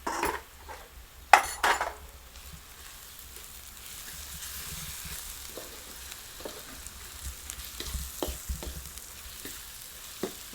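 Red chilli powder, garam masala, cloves and black pepper frying in a pan over low heat: a couple of loud metal clatters at first, then a faint, steady sizzle with light intermittent taps of a stirring spoon.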